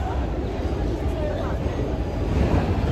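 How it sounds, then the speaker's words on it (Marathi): A passenger train pulling into a station platform, a steady low rumble and rolling noise with a high whine held throughout. "ट्रेन आली आलेली आता."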